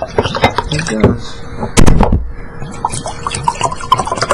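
Water poured into drinking glasses, with trickling and dripping liquid sounds and a louder splash partway through, set among room noise and clinking.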